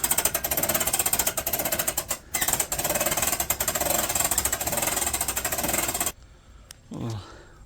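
A 1998 Coleman pop-up camper roof being cranked up, with loud, rapid mechanical rattling that chatters steadily for about six seconds before cutting off, followed by a brief voice.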